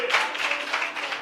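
A men's service congregation in a church claps loudly together, a dense, continuous wash of applause that holds steady from start to finish.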